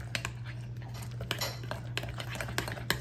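A spoon stirs Jiffy cornbread batter in a bowl, producing irregular clinks and scrapes against the dish over a steady low background hum.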